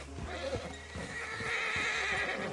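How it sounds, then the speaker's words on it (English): A horse in Red Dead Redemption 2 whinnies sharply against clip-clopping hooves and a constant low rumble of movement, with a rising hiss of wind or rushing air behind it. "Damn horse acting up on me."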